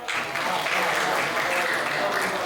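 Audience clapping at a Hindi comedy poetry event, a steady, full burst of many hands applauding throughout, fairly close and even in loudness.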